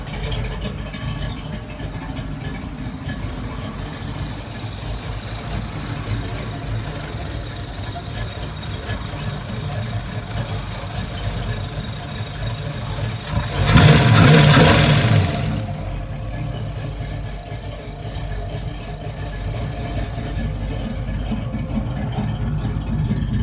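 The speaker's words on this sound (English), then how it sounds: "Let me take y'all with me to idle it up just a hair." A V8 engine in a Ford Ranger idles steadily with a low rumble, swelling briefly into a short rev near the middle before settling back to idle, with background noise throughout.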